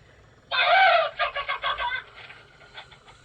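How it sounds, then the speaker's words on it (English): A free-range hen lets out a loud squawk, then a rapid run of clucks that trails off, close and clear over quiet background. "My hens are free range."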